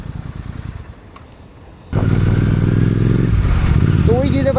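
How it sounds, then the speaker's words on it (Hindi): A Royal Enfield GT 650 parallel-twin engine with a Red Rooster exhaust idles quietly, then bursts into a loud, close, sustained rev that holds a deep throbbing burble to the end. "एग्जॉस्ट के बाद आपको पता ही है यार, कोई तोड़ नहीं है, मतलब पैरेलल ट्विन इंजन का साउंड ही अलग है"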